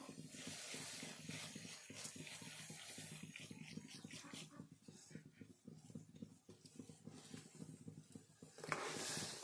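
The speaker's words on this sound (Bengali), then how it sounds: "তো জল এখানে ফুটতে শুরু করেছে" Water comes to a boil in a pot for jalebi sugar syrup, giving a faint, close, dense hiss with irregular light bubbling and crackling patter.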